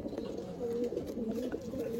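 Pigeons in a fancier's loft coo in low, soft, continuous murmuring tones, close and steady throughout the short stretch.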